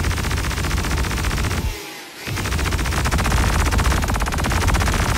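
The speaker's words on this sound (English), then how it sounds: "Only one of the guns works. That or it's firing." Ship turret guns fire in Star Citizen, a dense continuous stream of rapid gunfire, loud and close, that cuts out for a brief moment before resuming just as heavily.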